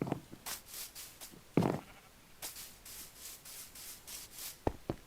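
Sheep bleating in the Minecraft video game, a few short bleats spread across the clip alone, with soft rustling between them.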